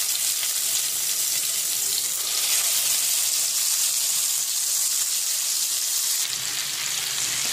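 Eggplant slices for a spicy begun bhaja fry in hot oil in a pan, giving a steady, dense sizzle that holds evenly and fairly loud throughout, with no talking over it.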